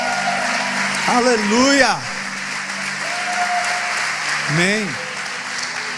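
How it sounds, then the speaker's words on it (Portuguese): A church congregation applauds during a healing service, clapping carried under a preacher's loud sung exclamations and a few crowd voices. "Forte esse aplauso ao Senhor."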